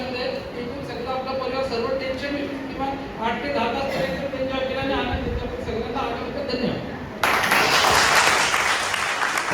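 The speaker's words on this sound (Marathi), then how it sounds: "आपण सर्वांनी पालकर सरांचं त्यांच्या कुटुंबाचं टाळ्या वाजून स्वागत करूया" A group at a Karjat wellness picnic bursts into loud, dense clapping near the end to welcome Palkar sir and his family, after a stretch of talk over outdoor background noise.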